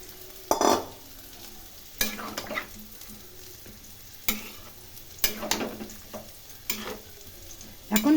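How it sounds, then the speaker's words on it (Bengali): Mixed vegetables frying in a pan as water goes in, giving bursts of sizzling and stirring scrapes at intervals, close and moderately loud with no talking. "এখন এর মধ্যে জল দিয়ে দিলাম।"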